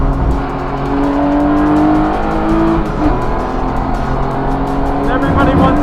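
Cars including an E36 M3 and a Miata accelerate hard on a race track, engines droning loud and close with rising revs, tire noise and a pass-by near the end.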